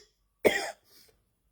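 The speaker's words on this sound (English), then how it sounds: "I went from having no coughs yesterday to coughing up a storm this morning." A person with a returning cough gives one sharp, close cough followed by a fainter, shorter second cough, then silence.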